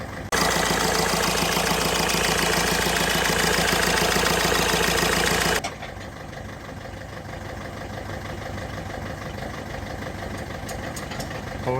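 A Ford Figo idles with a misfire. The engine runs loud and steady for about five seconds, then drops to a quieter, uneven idle with a slight irregular knock.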